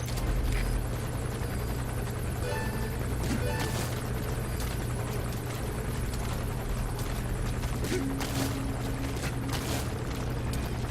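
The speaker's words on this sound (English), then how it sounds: "Looks like the arms dealer's chopper is gonna patrol with the security forces." An arms dealer's helicopter patrols overhead in Metal Gear Solid V: The Phantom Pain, its rotor throbbing steadily at moderate distance beneath in-game ambience and occasional sharp mechanical clicks.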